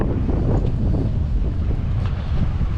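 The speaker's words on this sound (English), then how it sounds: "so might be a little extra wind noise" Steady low rumble of wind buffeting a microphone, with a soft wash of surf underneath, continuous and fairly loud with no voices.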